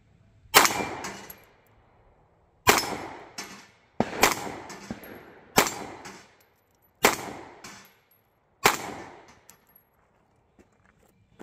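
Six sharp, loud shots from a Taurus GX4 9mm pistol ring out singly at an outdoor range, spaced roughly a second or two apart, each with a brief metallic ring-off.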